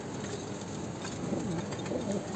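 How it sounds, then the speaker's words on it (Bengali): A female pigeon of the white beauty huma breed coos softly from a cage, low rolling coos repeating over a steady background hiss, close and moderately clear, with no talking. "এটা হচ্ছে মাদি কবুতর।"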